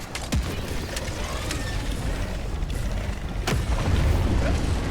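Thumping grenade pistol shots from Helldivers 2, a single-shot launcher, with a couple of sharp booms and mechanical clicks over a dense, noisy battle bed.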